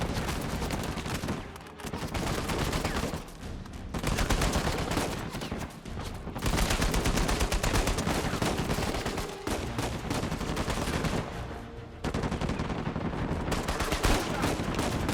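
Rapid bursts of automatic gunfire from an Uncharted 4 firefight crackle loudly and almost continuously, with brief pauses between volleys, close and dense, with a voice faintly underneath.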